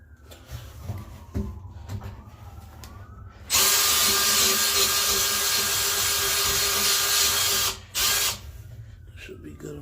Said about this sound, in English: putting the same drill bit in